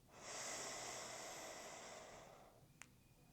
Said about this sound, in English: So I breathe in through my nose for 5 seconds